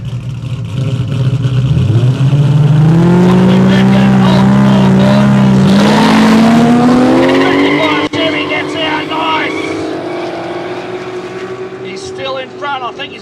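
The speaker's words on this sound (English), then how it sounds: "We got new school Supra up against old school 55 Chevy." A modern Toyota Supra and a 1955 Chevy launch side by side on a no-prep airstrip drag strip, with loud engines revving and rising through the gears, a brief tire chirp, and then the sound fading as the cars pull away while spectators talk.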